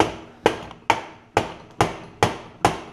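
A hammer taps at a stubborn part on a Troy-Bilt Pony riding mower engine during camshaft work: seven sharp metallic strikes at an even, brisk pace, each ringing out briefly, close and alone.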